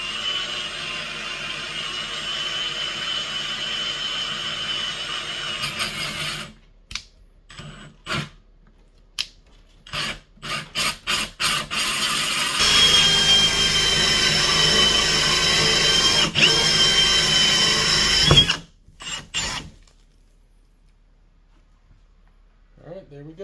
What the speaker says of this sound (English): And now we're just going to drill into it.